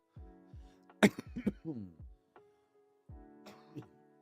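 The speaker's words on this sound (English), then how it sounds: "I had to clear my throat there" A throat clearing followed by a short cough-like burst, with a low hum before and after, close and moderately loud.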